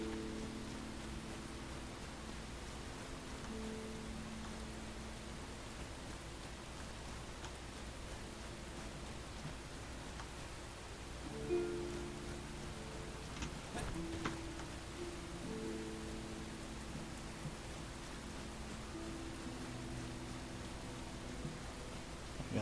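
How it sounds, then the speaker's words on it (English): Rain in the video game Enshrouded forms a faint, constant hiss over a low hum, with a few soft tonal game effects surfacing briefly partway through and no talk. "it's raining."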